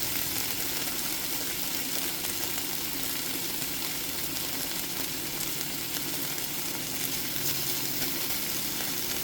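Sliced bone-in beef chuck short ribs, LA galbi style, sizzle steadily in a hot pan, a dense continuous frying hiss with no break throughout.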